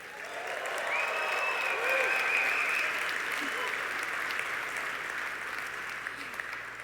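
Conference audience in a large hall applauding and cheering at an in-person event's opening session, a dense sustained wash of clapping that swells in the first two seconds and holds steady throughout, with scattered whoops on top.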